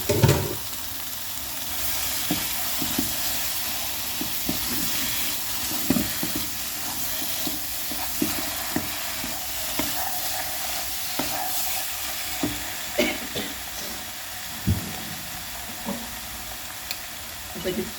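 Liver frying in a pan sizzles steadily throughout, with frequent scraping and stirring clatters scattered across the clip.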